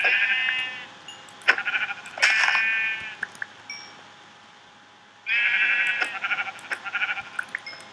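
Sheep in the Minecraft video game bleat in two long wavering calls with short clicks between them, close and clear, with no talking.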